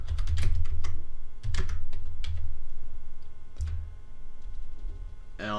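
Fast typing on a computer keyboard while naming a new VirtualBox virtual machine, with clustered keystrokes and short pauses between bursts, heard up close.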